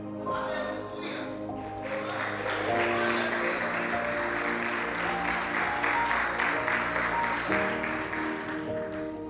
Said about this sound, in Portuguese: Aplauda a palavra do Senhor.